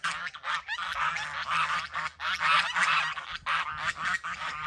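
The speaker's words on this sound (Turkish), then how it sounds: "Makineden çıkan kazların kendi ailelerine buluşma oluyor." Geese honk loudly and continuously in a dense, overlapping chorus as newly hatched goslings from an incubator meet their mothers, with no talking.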